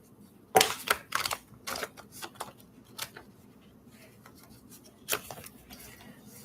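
A few sharp papery riffles and flicks of cards being shuffled, close and fairly quiet, with a louder burst near the start and another toward the end.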